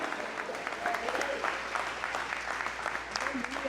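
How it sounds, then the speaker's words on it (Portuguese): Church congregation applauding during a sermon, a steady, moderately loud spread of clapping from the assembled worshippers with faint voices and cheers mixed into the background. "Pode aplaudir."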